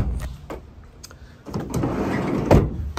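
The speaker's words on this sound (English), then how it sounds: "Sliding door shuts" A sliding side door on a 2013 VW Caddy 1.6 TDI short-wheelbase van rolls along its track and shuts with a firm thud close by, with no talk over it.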